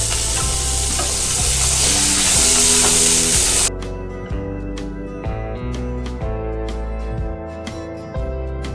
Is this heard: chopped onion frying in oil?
yes